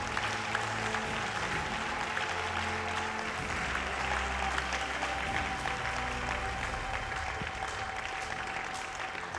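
Congregation clapping steadily during a mass prayer service, a dense, continuous wash of applause from a crowd with faint voices beneath.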